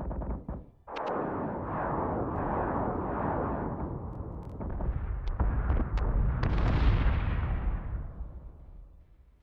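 Spaceship munitions firing in the space combat game Battlestar Galactica Deadlock: a dense barrage of booming artillery-like blasts and explosions rolling together, loud and sustained, with sharp cracks punctuating it before fading out.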